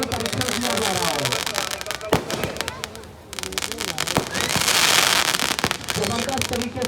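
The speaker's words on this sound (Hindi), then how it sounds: "जबरदस्त तरीके से आतिशबाजी का प्रदर्शन कर रही है" Fireworks at the Dewa mela fair crack and pop in rapid, dense volleys with sharp bangs scattered through, loud and close, while voices talk underneath.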